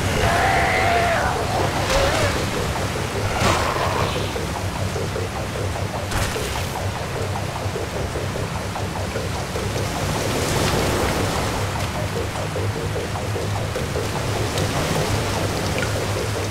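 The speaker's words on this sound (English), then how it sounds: "Whole goddamn ship is filling with water." Water rushing in to flood a ship in Dead Island Riptide, a steady broadband wash like heavy rain and surf that runs the whole time, with a few louder splashy surges near the start and faint talk underneath.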